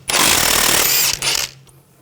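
An 18mm socket on a ratchet works a strut nut loose on a 2000-2006 BMW X5, giving a dense, loud burst of metallic clatter for about a second and a half before stopping abruptly.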